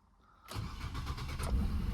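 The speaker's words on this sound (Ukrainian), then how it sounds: "Зараз заводимо автомобіль." A 2.0 petrol Nissan Qashqai 4WD starts with a quick crank and then catches. The engine settles into a steady, fairly loud idle that grows slightly, and there is no talk over it.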